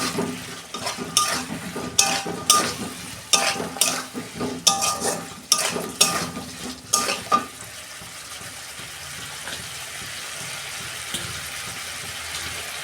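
Potatoes tossed into spiced masala in a pan, with loud rapid scraping and clattering of a spoon against the metal for several seconds, then settling into a quieter, steady frying sizzle, close by.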